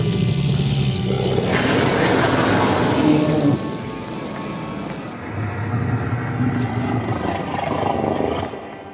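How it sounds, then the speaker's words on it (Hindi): A loud, sustained beastly roar standing in for a ghost cow in a Hindi horror story, a harsh growl that fades into a lower rumbling tail. "ये कहते हुए गाय की भूत जोरों से गरज उठा।"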